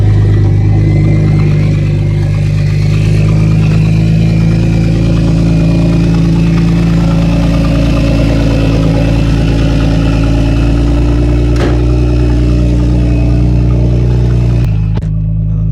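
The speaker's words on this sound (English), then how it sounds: "we're gonna go surprise them here in a bit with a very loud single turbo 335" A BMW 335 fitted with a big single turbo idles very loudly up close, a deep steady rumble holding throughout before cutting out abruptly near the end.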